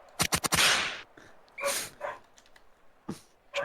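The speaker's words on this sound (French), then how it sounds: "Le chien qui hurle, il rend un peu fou" A dog named Yuli yelps and howls indoors, starting with a quick cluster of sharp barks that run into a drawn-out howl, followed by scattered shorter whining bursts, fairly close and with no talk.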